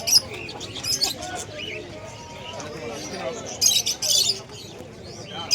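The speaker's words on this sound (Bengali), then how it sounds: "হাটে খুব চেঁচামেচি হচ্ছে" Commotion at a busy pigeon market during the Kali Puja season: pigeons coo and flutter while vendors and buyers talk and call out nearby, and sharp bursts of chirping and squawking rise above the din.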